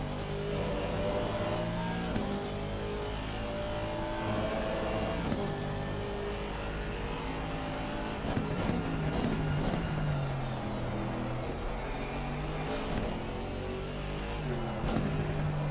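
Race cars lapping a track in a sim racing league event at India, engines droning steadily with harmonic whine, rising and falling revs as cars push through traffic, continuous and fairly loud throughout.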